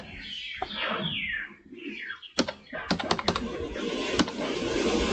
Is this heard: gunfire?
no